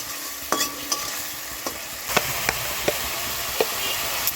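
A spoon stirs egg curry with tomato paste and spices in a pan, scraping with scattered sharp knocks against the metal over a soft background sizzle, close and moderately loud.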